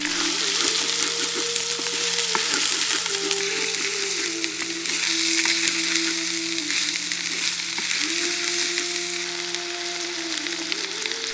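Chopped tomatoes sizzle loudly in a pan of frying onions, salted, while cooking mutton blood fry; a dense crackling hiss runs throughout with scraping stirs and clinks from a utensil, close and continuous.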